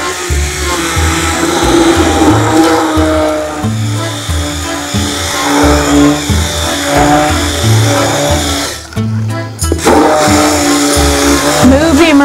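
A loud immersion blender whirs continuously in a bucket of homemade liquid laundry detergent, with a rhythmic pitch shifting up and down as it churns, briefly cutting out near the end.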